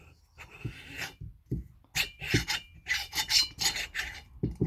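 Repeated rasping friction strokes, a new piston scraping back and forth inside a cast-iron cylinder of a DR scooter kit, in uneven bursts with short pauses between.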